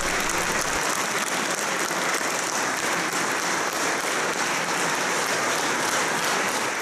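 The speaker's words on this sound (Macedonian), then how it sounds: "Снимката од громогласниот аплауз на публиката кажува се." Thunderous applause from a concert audience after a cathedral choir's performance, dense and sustained clapping that fills the whole stretch at an even, loud level.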